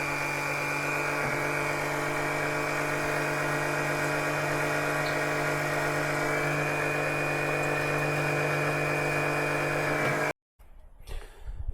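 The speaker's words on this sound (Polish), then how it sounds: "Pompka chodzi, olej się leje." Small electric pump extracting engine oil during an oil change, a steady droning whine with tonal hum running continuously for about ten seconds before stopping abruptly, followed by faint handling noise.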